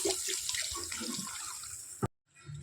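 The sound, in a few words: water poured into pot of egg curry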